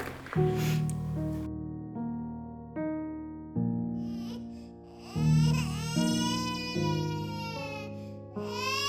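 A baby cries in an abandoned mansion, with wavering wails rising over a sustained low instrumental tone that swells in repeated waves. The cry is clearest in the second half.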